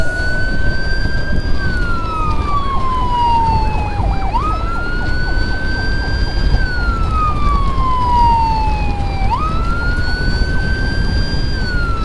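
A wailing ambulance siren sweeps up and down in long repeating cycles, loud and close, running steadily throughout with road noise beneath and no talk, as the ambulance is escorted to a hospital.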